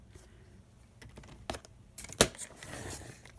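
Fiskars paper cutter slicing strips of craft paper: a few quick sharp blade strokes and clicks close up, with one loud slice standing out, no talking.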